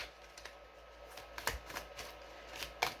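Tarot cards shuffled by hand during a reading, a soft papery riffle with scattered sharp clicks and flicks, fairly close and quiet with no talking.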